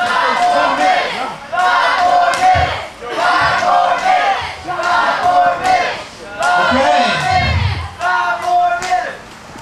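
A wrestling crowd at a CWF Mid-Atlantic event chants in loud, rhythmic bursts that fill the arena, with a voice shouting over it.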